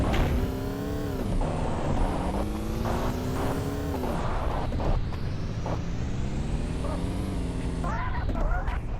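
A car's engine drones steadily as it drives in the Payback 2 video game, its pitch rising and falling with acceleration, loud and continuous with a faint game sound bed.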